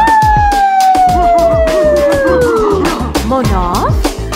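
A dog lets out a long, sliding howl over a rapid, thumping beat and Happy Birthday music, loud and close, ending in wavering yelps.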